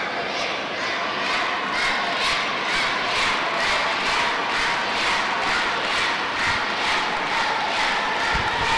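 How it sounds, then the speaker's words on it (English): A hometown crowd roars for a Brazilian athlete at a wushu championship nanquan event, a loud continuous wash of cheering and shouting with rhythmic surges, like chanting, throughout. "Not sure if you guys can hear the crowd cheering behind us, but he's definitely a hometown favorite."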